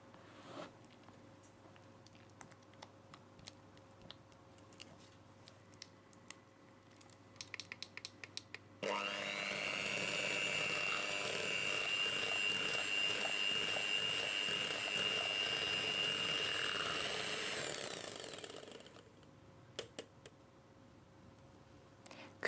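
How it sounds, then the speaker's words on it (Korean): A whisk mixing cream cheese and mascarpone in a bowl, a dense continuous whirring rattle lasting several seconds after scattered light clicks, then fading back to quiet taps. "주걱으로 한번 부드럽게 풀어준 뒤 휘핑기로 전체적으로 한번 섞어주세요."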